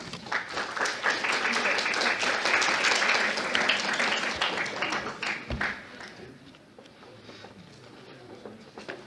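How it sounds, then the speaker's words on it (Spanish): An audience at a medical lecture on imaging of head trauma breaks into sustained applause, dense and loud at first and then thinning out, with a voice starting to speak as the clapping dies down. "Lo recibimos con un fuerte aplauso"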